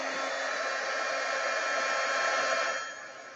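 Steady, loud blowing whoosh of a heat tool warming a Stampin' Up craft piece with embossing, holding constant for about three seconds and then easing down slightly at the end, with no talking.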